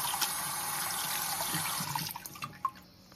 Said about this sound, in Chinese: 我們用流水給它清洗一下啊，洗的時候也不能太用力了哈